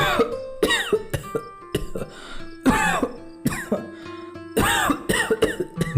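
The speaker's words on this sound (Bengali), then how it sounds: "একা ঘটায় দমকে দমকে কাশির সাথে রক্ত উঠছে ক্রমাগত" Repeated harsh coughing fits, bursts of several coughs in quick succession with brief gaps, close and loud, with raspy throat-clearing between them.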